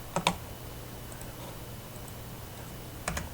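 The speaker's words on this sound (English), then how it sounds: "we can type BO in our command" Computer keyboard typing while entering an AutoCAD 2024 command, a quick double keystroke at the start and another short burst near the end, close and clear with silence between.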